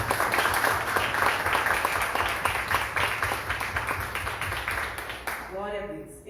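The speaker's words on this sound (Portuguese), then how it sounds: "Uma salva de palmas para Jesus." Church congregation applauding, a dense continuous wash of many hands clapping at steady loudness for about five seconds before it fades, with voices mixed in near the end.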